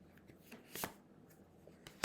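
Playing cards being shuffled and drawn from a deck: quiet, close crisp riffles and snaps in a few short bursts, with no talking.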